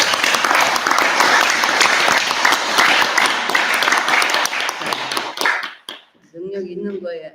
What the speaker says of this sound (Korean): 박수를 치려면 확실하게 치라고요.